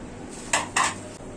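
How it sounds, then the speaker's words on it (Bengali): A wok set down on a home kitchen stove gives two quick metallic clanks close by, a clatter of cookware against the burner with no voices. "কড়াইটি বসায় দিলাম"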